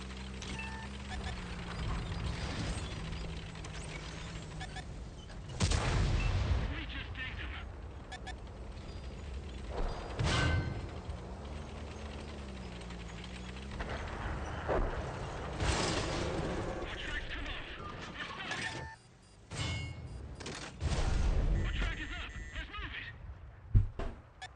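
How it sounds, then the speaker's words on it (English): Artillery fire in a video game: several deep, heavy booms land at intervals over a steady low rumble and engine-like drone, with a voice talking through parts of it. "Artillery, any particular reason why you're targeting me?"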